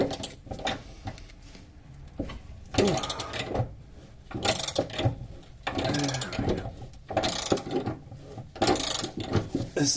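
A wrench works on a very stiff, rusty frame bolt on a Pontiac Sunfire, giving repeated bursts of ratcheting and metallic grinding, close and loud, with short pauses between the efforts.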